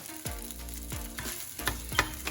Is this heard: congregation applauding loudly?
no